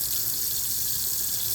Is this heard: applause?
no